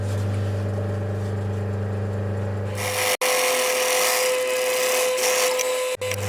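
A sewing machine runs a seam along a white faux leather storage ottoman cover, a steady close motor whir for about three seconds before it cuts off, followed by busier mechanical rattling and handling noise.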